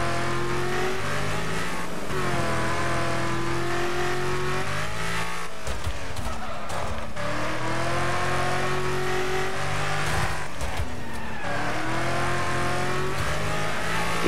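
Race car engines in the Wreckfest video game, loud and close, revving up and down through the gears in long rising sweeps, with a few harsh bursts of tire and impact noise mid-race.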